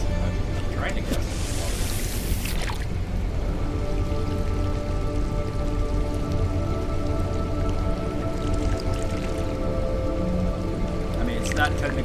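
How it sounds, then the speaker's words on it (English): Steady rain falling at a wet base in the No Man's Sky game, a continuous patter of drops beneath a droning background hum, with a brief hissing burst early on. "it's always raining most of the time here"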